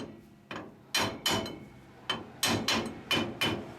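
Axle shaft seal being driven into a Ford 9-inch rear axle housing with a hammer: about nine sharp metallic blows in an uneven rhythm, close and loud, with no voices.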